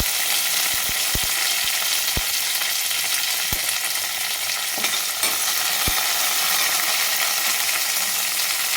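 Chana dal, urad dal and mustard seeds sizzling in hot oil for a tempering, a dense continuous fry hiss with scattered sharp pops and crackles of the seeds.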